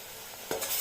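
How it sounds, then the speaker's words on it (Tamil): Moringa leaf thokku is stirred in a frying pan, a brief soft scrape and sizzle near the end of a short, quiet moment. "போட்டு நல்லா கிளறி விடணுங்க"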